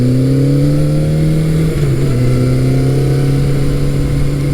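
A classic midsize Suzuki four-cylinder motorcycle (GS550, GS650 or GS750 era) rides along the road, its loud, steady engine drone holding a constant pitch apart from a brief dip partway through, alone without any talking.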